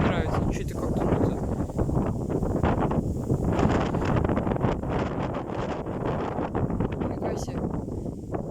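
Strong storm winds gusting across an open field at around 23 metres per second, a loud, continuous roaring buffet that swells and surges throughout, with a voice talking faintly underneath.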